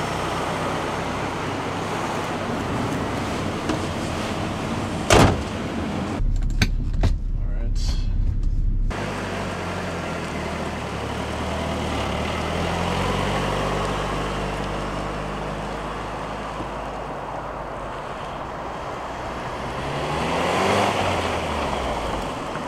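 A 1995 Nissan 200SX S14 Zenki in all-original condition pulls away for a test drive, its engine note rising and falling under a steady road rumble, with a door-like thump and brief bangs early on.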